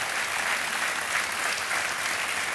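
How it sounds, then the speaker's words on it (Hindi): Steady, dense applause from a studio audience at a televised quiz show, loud and continuous throughout with no pauses. "ये देखिए, तालियां बजती रहें इनके लिए।"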